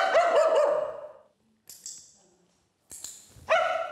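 A dog barks close by: one drawn-out bark, then a couple of short, sharp yaps separated by silence.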